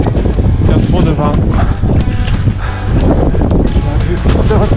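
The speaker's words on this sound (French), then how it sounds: "Le col, il y a trop de vent." Strong wind roars steadily across a mountain col during a snowshoe trek in the Pyrénées-Orientales, a loud, constant buffeting close to the microphone while a person talks.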